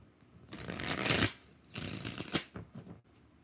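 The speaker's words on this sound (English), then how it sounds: "4 shuffles." Tarot cards being shuffled by hand in two bursts of crisp riffling and flicking, close and fairly loud, with a short pause between them.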